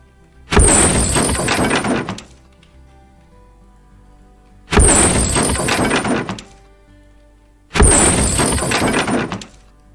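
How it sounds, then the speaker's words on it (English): Three wooden boxes smashed apart in an indie video game, each a loud crunching break with splintering debris lasting over a second, spaced evenly apart with silence in between. "3 wonderful boxes waiting to get destroyed, and I just will be silent for a second that you can hear the sound effects"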